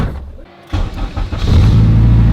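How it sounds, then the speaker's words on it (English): A modified Honda Civic street car engine runs steadily at idle, a low rumbling hum that briefly dips then settles into a continuous, fairly loud drone. "It is idling way better."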